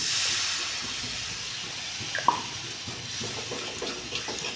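Water added to masala frying for ghugni, a pea and potato curry, gives a steady broad hiss with a few faint clinks and splutters.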